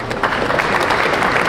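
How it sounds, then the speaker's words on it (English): A Hall of Fame induction crowd applauding steadily at an even level throughout, a dense patter of many hands with no one speaking over it. "So all of you, please give an enormous round of applause."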